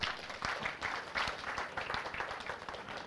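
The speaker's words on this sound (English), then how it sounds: "Can we give them a round of applause?" An audience at an education conference session claps together in a steady wash of applause, moderately distant and soft, lasting the full few seconds.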